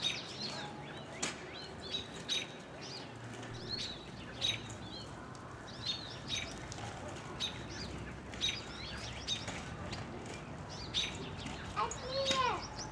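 A large bird calls outdoors, sharp repeated chirps and squawks at irregular intervals over a constant background rustle, fairly near and clear.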